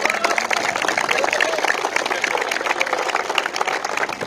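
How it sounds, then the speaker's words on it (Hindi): Loud, sustained applause from a gathered crowd at a farewell for a cadet of a commando defence academy, dense steady clapping filling the whole stretch without a break. "जोरदार ताली।"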